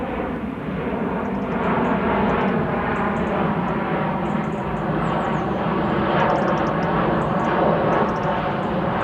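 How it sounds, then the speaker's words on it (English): Airplane on approach to Birmingham Airport passing overhead, a steady loud broadband roar that holds for the whole stretch with no talk, with faint birdsong high above it. "we are over the Birmingham Airport flight path. There's one coming in now."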